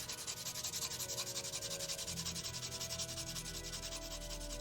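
Pencil being sharpened for a rose drawing, a steady rhythmic scraping and rubbing that repeats in quick even strokes throughout, fairly close and moderately quiet, with a low hum underneath and no talking.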